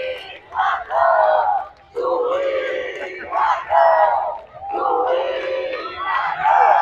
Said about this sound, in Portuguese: aqui é a torcida do Fluminense